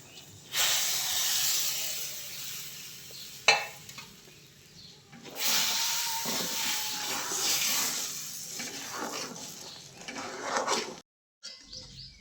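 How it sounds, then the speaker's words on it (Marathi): Sugar water in a wok boils and hisses with steady bubbling sizzle in long close bursts, broken by brief stirring clatter and quiet gaps. "पाणी चांगलं कळकण उकळे."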